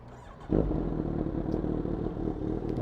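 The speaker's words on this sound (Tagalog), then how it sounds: "Kaya pakiramdaman ko tong motor. Ini-enjoy ko yung tunog." A Yamaha VMAX motorcycle with a short, cut-down exhaust pipe fires up abruptly and idles loudly with a rough, throaty rumble and a crackling exhaust close by.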